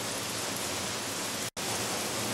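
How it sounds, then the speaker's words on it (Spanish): Torrential rain pours down over Benidorm Bay during a storm with tornadoes, a constant, dense hiss of water that stays even throughout apart from a split-second dropout. "mira la lluvia"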